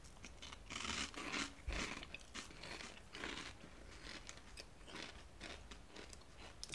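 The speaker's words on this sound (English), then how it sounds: "It's kind of got the crunch of Fruit Loops. It definitely has a crunch." Cereal School low carb cereal is crunched and chewed up close, with repeated crisp bites and grinding chews in an irregular rhythm and no talking.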